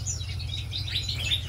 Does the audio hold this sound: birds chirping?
yes